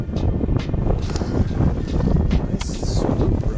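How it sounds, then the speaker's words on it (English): Strong wind over the Detroit River buffets the microphone in a constant roar, with low rumbling gusts that rise and fall throughout. "Hear that wind whipping in the background?"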